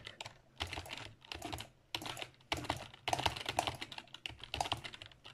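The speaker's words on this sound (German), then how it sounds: "Und sorry, dass vielleicht meine Tastatur so laut ist." Fast, clattering keyboard typing in uneven bursts, loud and close, with short pauses between runs of keystrokes.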